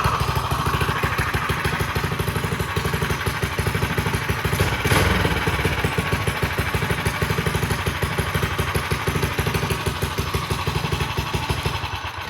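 A Predator 212cc engine on a Ghost mini bike idles on a stand with a steady, rapid chugging beat, close and loud, holding an even pace throughout with a slight clatter and no talking.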